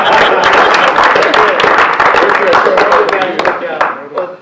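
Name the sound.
audience applause for the investor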